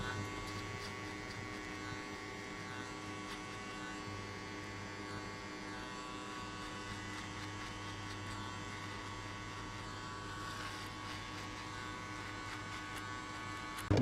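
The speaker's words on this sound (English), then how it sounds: "Now I will jump to the next step using the shaver." Steady electric shaver buzz running close and continuous during a buzz cut, shaving hair below the guideline, with a constant motor hum and no talking.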